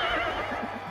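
A horse neighing at a televised outdoor team-games contest, one whinny about a second long over crowd noise and background sound, fairly clear and moderately loud.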